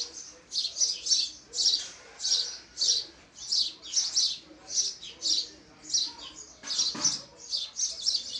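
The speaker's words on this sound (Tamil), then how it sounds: "சிட்டுக்குருவிகள்." Sparrows chirp while feeding their young, a rapid series of high, sharp tweets in short bursts that repeat at a steady rhythm and sound close.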